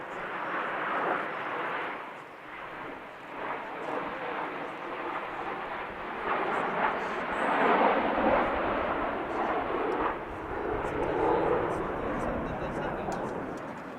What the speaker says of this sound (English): It's a military jet trainer and light attack aircraft developed in the 1970s